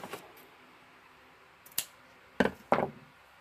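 Scissors trim excess material from a Dollar Tree craft project: a few quick, sharp snips close by, separated by quiet pauses.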